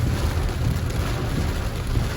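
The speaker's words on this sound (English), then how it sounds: "So the rain's coming back down on the hip strip." Steady rain pours down on the Hip Strip in Montego Bay, Jamaica, a dense, even hiss with low rumbling wash, continuous and close with no voices.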